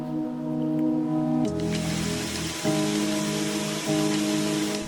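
A steady roar of rushing, falling water from Risco Waterfall, Madeira, fills the scene, with a low mechanical hum underneath.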